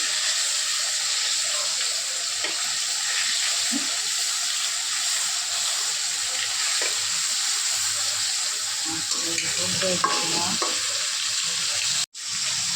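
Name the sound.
fish frying in a pan, being turned over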